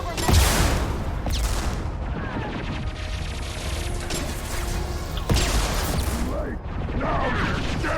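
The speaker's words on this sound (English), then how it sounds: "If this was real, that explosion would have still done damage to me." Explosions and weapon impacts in a Mass Effect 2 combat scene, with two sharp crashing blasts several seconds apart over constant mechanical clatter and rumble, and a voice talking underneath.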